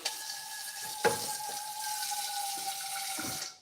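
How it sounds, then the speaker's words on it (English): Tap water runs steadily into a pot for an orangeade, a continuous close splashing stream with a few brief clunks of the pot, no voices over it. "a little bit of water"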